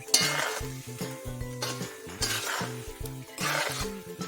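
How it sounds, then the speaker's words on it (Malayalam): Pickle powder is stirred into Indian gooseberries for a pickle, giving repeated scraping, rustling strokes in loud bursts, with a soft tune playing steadily underneath and no talking. "അപ്പം നമ്മൾ ഈ അച്ചാർ പൊടി നമ്മൾ ഇങ്ങനെ ഇളക്കി കൊടുത്ത് ഈ നെല്ലിക്കയിലെല്ലാം നമ്മൾ നന്നായിട്ട് പിടിപ്പിച്ചു കൊടുക്കണം."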